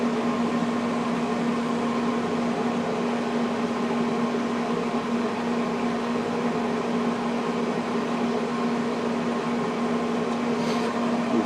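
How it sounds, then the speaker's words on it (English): A Traeger Tailgater 20 pellet grill fires up with a steady, loud mechanical hum and whirring fan drone, the ignition flame adding a faint rushing hiss near the end. "This flame, you'll hear it more than see it"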